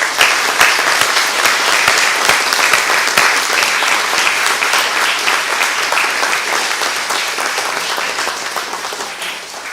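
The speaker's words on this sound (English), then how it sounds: "Let's give them a round of applause." Sustained audience applause fills a school hall at a speech day prize giving, dense steady clapping from a large crowd that stays loud and slowly eases toward the end.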